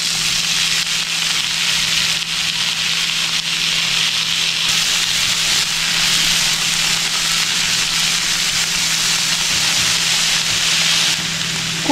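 Crushed shallots frying in fresh coconut oil for a Kerala dry fish chammanthi: a steady, loud, dense hiss and crackle of sizzling that holds evenly throughout, with no voices.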